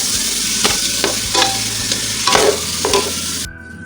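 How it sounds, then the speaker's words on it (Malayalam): Basmati rice is stirred and fried in a pot over steady sizzling, with repeated scraping strokes of a spoon against the pot, close and fairly loud, until the sound cuts off abruptly. "ഇതിലേക്ക് നമുക്കിനി അരി ഇട്ട് കൊടുക്കാം കേട്ടോ."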